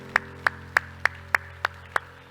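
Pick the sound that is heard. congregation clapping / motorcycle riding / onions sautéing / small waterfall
congregation clapping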